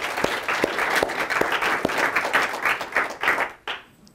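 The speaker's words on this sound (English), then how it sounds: "I'd love if we could all give a round of applause to Dr. Phillips and all the team" An audience claps for presenters at a thesis presentation, a medium-sized crowd with a few distinct nearby hand claps standing out rhythmically before the applause thins and stops abruptly near the end.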